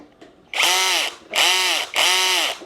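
A corded electric drill with an adjustable clutch drives screws into a sandwich-type lightweight wall panel: three close, loud whirring bursts, each spinning up and winding down, with brief quiet gaps between them.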